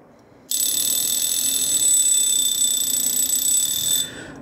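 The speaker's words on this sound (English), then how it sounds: "I need the alarm to be on." A Smiths alarm clock under repair rings its alarm in one continuous bright, loud ring lasting about three and a half seconds, then stops abruptly, heard close up with no talking.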